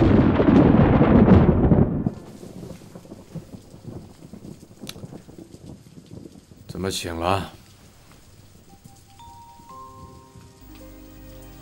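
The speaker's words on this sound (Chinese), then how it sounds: "臣妾听到外面下雨了" Rain falling at night in a palace setting. It starts as a loud, dense downpour, then settles into a quieter patter with a low rumble of thunder, and a voice speaks briefly over it.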